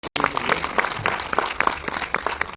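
An audience at an indoor event bursts into brief applause, a scattered patter of hand claps rising and fading over a couple of seconds.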